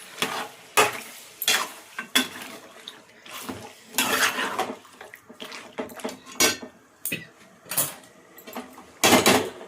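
A utensil stirs and scrapes chicken curry in a metal pan, with irregular clattering knocks and scraping strokes, close and fairly loud, with no talking.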